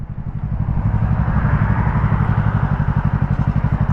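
Motorcycle engine heard close up with a rhythmic low thumping that settles into a pulsing, idle-like beat, a smooth downshift with no talking.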